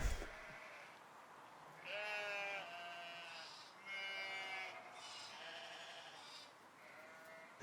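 Sheep bleat outside a recording studio in the Midlands, UK, several distinct wavering calls in a row, fairly close and clear over quiet outdoor air.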